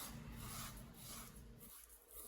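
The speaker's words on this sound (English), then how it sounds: "you're gonna hear this scrape" A quiet, steady rasping scrape rubs back and forth over bleached hair knots, close and faint, with no talking.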